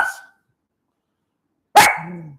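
A pet dog barks once, close and loud, a sharp bark with a trailing whine after a brief earlier yelp, indoors in a home during a televised football game.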